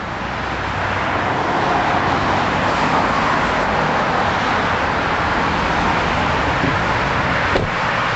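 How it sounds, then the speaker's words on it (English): Street traffic roars past the front of a building, a loud, steady broadband rumble of passing vehicles with a faint knock near the end and no voices. "A little bit noisy being this close to the street"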